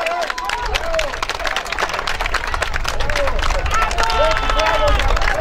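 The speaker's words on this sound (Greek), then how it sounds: "Ακούτε και τα χειροκροτήματα εδώ των φίλων του ΕΑΝΤΑ" Home fans of EANTA applaud during a youth football match between AO Mykonos and Aias Syrou, with a steady wash of clapping and crowd noise. Voices are heard under it.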